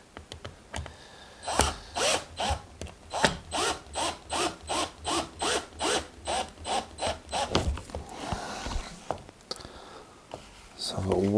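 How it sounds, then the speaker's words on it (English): Screws driven into wood with a steady run of about fifteen evenly spaced ratcheting bursts, close and fairly loud, followed by a brief pause and softer handling noise. "what I'm going to try and do is get these screws in"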